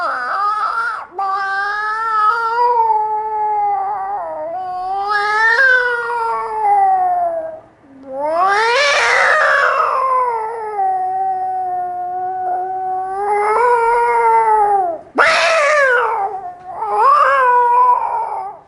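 A stage mimicry performer imitates a cat singing a lullaby, producing long, wavering, meow-like sung tones that rise and fall in loud, close phrases with brief pauses between them.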